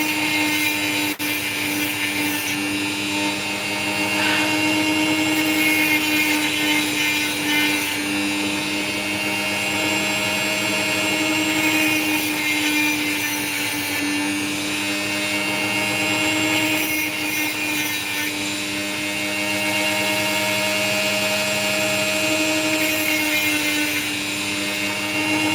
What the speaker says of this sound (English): What I'll do is I'll grind it from here and let it make the choice for me.